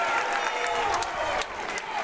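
A crowd at a National Park College men's basketball game cheers and applauds loudly and steadily late in the game, with commentary voices underneath.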